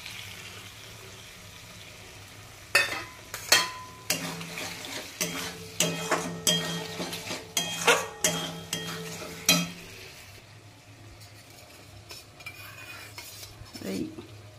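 Chilli chicken mixture tipped into a hot pan and stirred, with a steady sizzle under a run of loud scraping and clattering spoon strokes that then fade back to a quieter fry.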